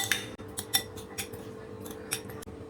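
A spoon clinks and scrapes in a bowl while peanut salad with chopped carrot, chilies, rock salt and coriander is tossed, a quick series of light metallic taps and rustles close by.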